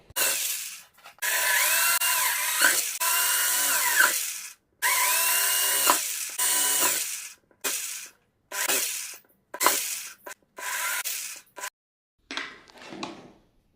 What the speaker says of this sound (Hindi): यहाँ पर इन सब में ड्रिल की हेल्प से छेद निकाल लेंगे।